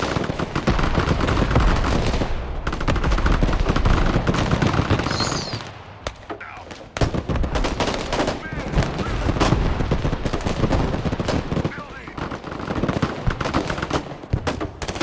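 Dense, sustained gunfire and heavy weapons from the military strategy game Broken Arrow, rapid automatic bursts and booming blasts close and loud for nearly the whole span, briefly easing midway, with voices talking over it.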